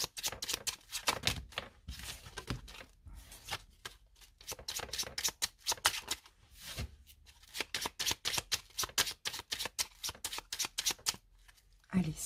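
A 32-card deck is cut and shuffled in a long run of rapid, crisp riffling clicks and flutters, close and fairly quiet, with brief pauses between bursts.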